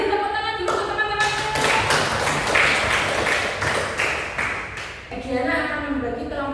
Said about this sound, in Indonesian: Beri tepuk tangan dulu untuk teman-teman.